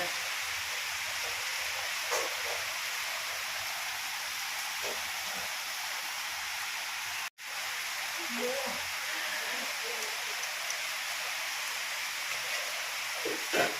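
A long, continuous downpour washes over a house in a dense, steady roar, broken once by a momentary dropout midway, with occasional soft voices beneath.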